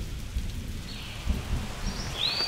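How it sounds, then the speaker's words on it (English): Steady, dense rainfall pours down in a forest with hornbills, a continuous close hiss with a faint low rumble and a brief bird call near the end. "But wait, it rains in meters here and not in millimeters."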